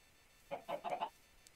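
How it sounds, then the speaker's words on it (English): Chickens clucking in the Minecraft video game: a short burst of four or five quick, soft clucks in a row, fairly faint, with quiet before and after and no talk. "Chickens!"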